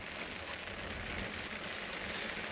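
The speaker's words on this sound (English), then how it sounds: "Yeah, it's raining good now." Heavy rain drums steadily on a truck camper roof, a continuous dense hiss without breaks, fairly quiet and even throughout.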